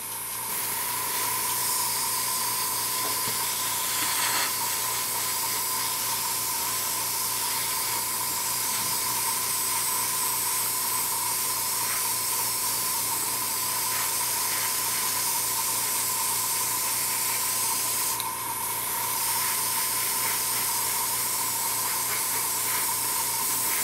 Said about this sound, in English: I use a Badger airbrush. This is the Patriot 105